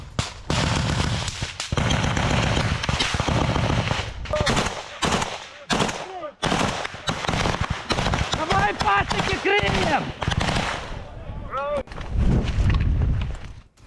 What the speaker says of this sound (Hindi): यूक्रेनी फौज की अंधाधुंध फायरिंग की तस्वीरें देखिए